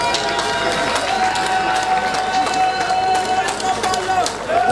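A crowd at an official project-launch ceremony applauds in a dense, steady wash of clapping that lasts throughout, with a tonal hum or voice faintly underneath.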